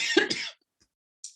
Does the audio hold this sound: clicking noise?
no